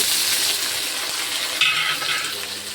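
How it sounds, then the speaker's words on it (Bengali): Onion fries in hot oil with cinnamon and cardamom, making a steady close crackling sizzle. A brief brighter scrape of stirring cuts in partway through, and no voices are heard. "পেঁয়াজটাকে আগে ভালো করে ভেজে নিচ্ছি"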